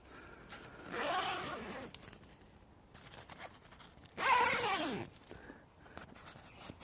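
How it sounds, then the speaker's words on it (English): Door zips of a French army F2 ridge tent being pulled one-handed in a bluebell wood, two separate broadband rasping zip strokes, the second louder and sharper, with quiet rustling between. "For each doorway, as I've shown you, you've got your 2 horizontal and your vertical zips."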